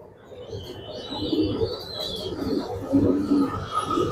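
A male racing pigeon coos softly in a loft, low murmuring calls repeating over steady background noise, with faint chirps from other birds nearby.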